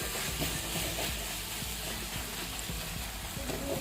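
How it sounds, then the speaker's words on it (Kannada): Cumin seeds frying in oil for a tomato chutney, a steady loud sizzle and crackle with faint stirring scrapes running throughout, close up and without voices. "ಎಣ್ಣೆಲೆ ಚೆನ್ನಾಗಿ ಫ್ರೈ ಆಗಬೇಕು"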